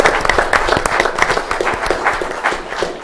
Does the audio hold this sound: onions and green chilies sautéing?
no